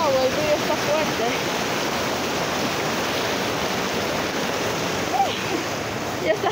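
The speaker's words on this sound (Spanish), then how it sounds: "El río está fuerte." A strong river rushes in a loud, continuous broadband roar beside a stick bridge, filling the whole stretch with brief faint voices cutting through now and then.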